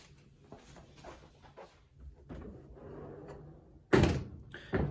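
An old 2008 Bosch Classics dishwasher door being pulled open, a soft latch click followed by a sharp, loud thunk near the end, close by in a quiet room.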